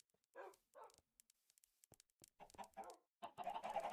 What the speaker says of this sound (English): Oh my god, they're all chickens.